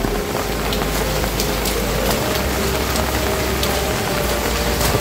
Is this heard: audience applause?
no